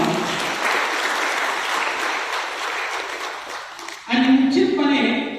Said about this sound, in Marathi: सर्वांचे एकदा स्वतःसाठी टाळ्या वाजवा